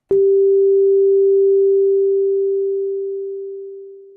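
A single steady synthesizer tone from operators set up for phase cancellation starts abruptly and holds clean and loud, then slowly fades away over a few seconds, with no voice.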